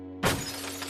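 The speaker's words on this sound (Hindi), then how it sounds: "शीशा टूट जाएगा।" A mirror shatters as a cartoon sound effect, a single sharp crash with a spray of tinkling glass over a steady hum.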